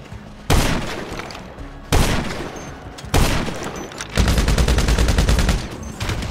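Gunfire in a shooter video game: three heavy single shots spaced about a second apart, then a sustained rapid automatic burst, all loud and close.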